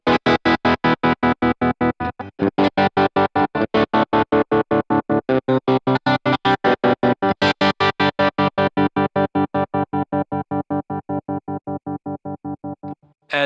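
Electric guitar through a TC Electronic Pipeline Tap Tremolo pedal, its sustained chords chopped into a steady, fast, even pulse of volume throbs that runs the whole time, loud and close, with no talking.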